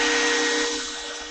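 DeWALT 12V XTREME 5-in-1 driver driving a large structural screw, a steady close motor whine that gradually eases off over a short burst.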